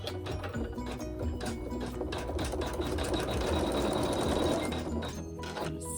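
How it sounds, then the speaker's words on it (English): A sewing machine stitches quilting in fast, steady mechanical chatter, a busy rattling run of needle strokes that continues evenly and close up with no talk. "and we'll sew some quilting."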